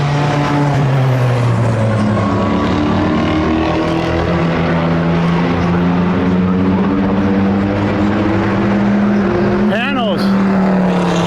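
A classic GT40 race car engine sings in the Le Mans Classic paddock: a loud, sustained, harmonically rich drone that holds steady, with a quick rising sweep near the end and someone talking over it.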